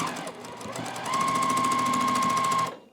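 A domestic sewing machine chain piecing a quilt block, starting slowly, then running at a fast steady whir with a high whine for about a second and a half before stopping abruptly, close with no talking.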